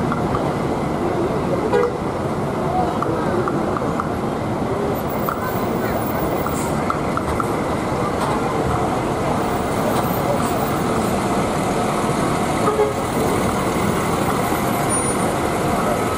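Busy traffic at Kampung Rambutan bus terminal, with long-distance Sumatra buses idling and moving, steady engine rumble and occasional horn toots throughout, while people talk nearby.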